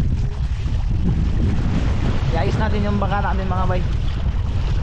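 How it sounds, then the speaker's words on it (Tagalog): Strong typhoon wind roars steadily across the microphone on an island coast, with surf and water noise beneath, while someone talks over it. "sobrang lakas ng bagyo mga bay ito"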